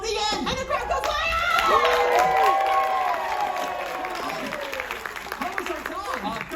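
Audience at a Star Wars show aboard the Disney Fantasy cruise ship cheers, whoops and applauds loudly in a sustained burst, with excited shouts and children's voices rising over steady clapping.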